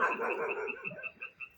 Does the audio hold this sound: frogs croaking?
yes